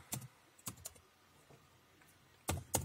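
Keys clatter on a computer keyboard as a search is typed into Google, in a few short bursts of clicks with pauses between, near and fairly quiet, with no talk.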